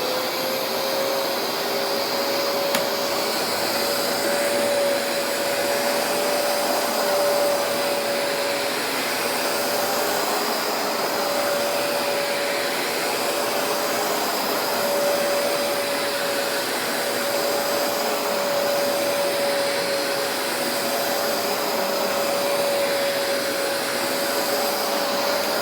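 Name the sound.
vacuum cleaner running on carpet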